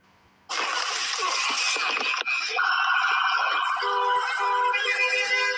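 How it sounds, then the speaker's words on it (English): A loud vehicle siren wails steadily, with traffic noise underneath and a rising, shifting tone partway through. "Did y'all hear the siren?"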